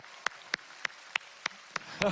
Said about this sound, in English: can we clap it up for our families?